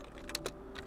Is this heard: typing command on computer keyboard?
yes